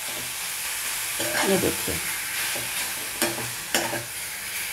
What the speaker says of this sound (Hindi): और इसको थोड़ा सा पहले भून लेंगे